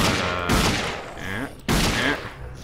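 Bursts of gunfire in the shooter video game Dead Effect, two loud volleys of rapid shots with a short pause between them.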